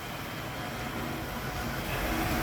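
A Hornby Dublo Co-Bo metal model locomotive runs along track with a continuous, steady whirring rumble that grows slightly louder as it approaches, no voices.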